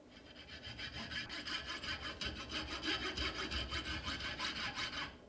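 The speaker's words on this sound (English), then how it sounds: "I'm just using a coping saw here" A thin-bladed coping saw cuts out a wooden sword, giving a close, steady rasping rhythm of even back-and-forth strokes for several seconds with no voices.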